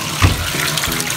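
Water runs from a tap into a bathtub being filled for a child's bath, a steady close rushing flow with a short louder gush near the start, no talking.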